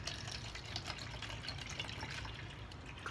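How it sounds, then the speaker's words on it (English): Cold coconut water pours into a glass in a steady, continuous liquid stream, close and moderately quiet, with no voices. "I'm gonna go ahead and pour me some cold coconut water"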